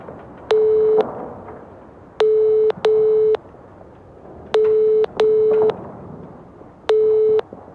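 Telephone call tones from the NiBiRu video game: six evenly pitched electronic beeps, loud and clean, spaced irregularly in short groups over a quiet hiss, with no talking.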